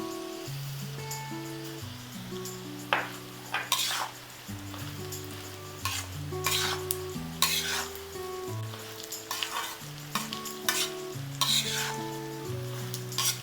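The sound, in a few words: stirring sesame seeds and flattened rice in pan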